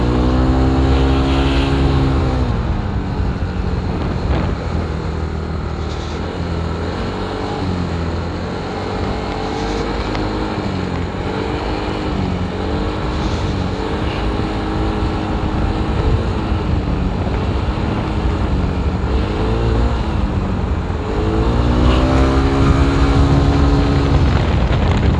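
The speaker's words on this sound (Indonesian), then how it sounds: "Motornya agak berat lagi." A motorcycle engine strains loudly and steadily while climbing an Alishan mountain road, its revving pitch rising and falling under load with constant wind rush and no talk.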